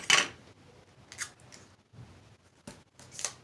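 Scissors snip off excess paper in an iris folding craft, giving a few sharp, close cuts: one crisp snip at the start, then several lighter clips spaced across a few seconds, with no voices.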